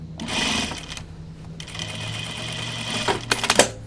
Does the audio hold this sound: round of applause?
no